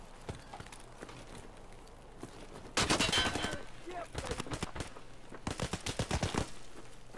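SKS rifle fire in the Escape from Tarkov video game comes as two bursts of rapid, sharp shots, loud and close. Quieter scattered pops and noises sit between the bursts.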